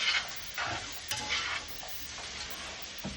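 Beef short rib meat browns in a pan over medium-high heat, sizzling loudly and continuously, with several scraping stirs of a utensil against the pan.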